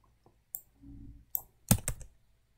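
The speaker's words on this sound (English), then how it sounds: "I'll just start typing." A few sharp clicks and taps on a computer keyboard while writing Rust code, close by and sparse, with a short burst of quicker clacks near the end.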